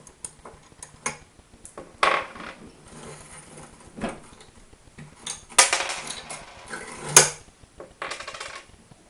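Small metal clinks and ratcheting taps from nuts and washers being removed from the frame of a Taig CNC lathe, close by, in scattered bursts with quiet pauses between.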